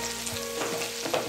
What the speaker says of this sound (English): Allow for 1 minute so that the green chilli and onions should become soft, or you can say they should be fried properly